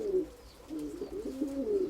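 A pigeon coos in a small corner loft, a few soft, low, rolling calls close by with brief pauses between them, no voices present.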